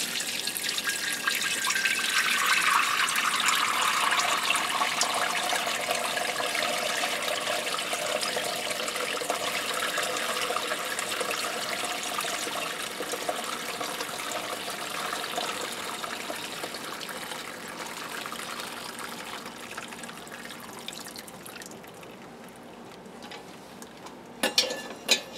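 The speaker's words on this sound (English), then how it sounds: "it's simply a matter of pouring it through and letting it strain out" Homemade meat broth pours through a cheesecloth-lined colander strainer, a steady, fairly loud trickling stream that runs on without pause, then thins and tapers off near the end with a few final drips and clatters.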